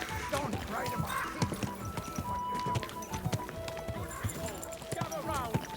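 In the video game Kingdom Come: Deliverance 2, horse hooves clip-clop steadily while a horse whinnies, with a voice speaking over the busy soundscape.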